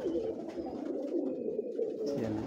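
Old-breed pigeons coo steadily in low, throaty murmurs, several birds overlapping close by with no pauses.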